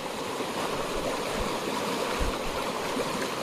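River water rushes steadily through Orang National Park in Assam as a forest guard wades across against a strong current, a loud continuous broadband flow with no voices.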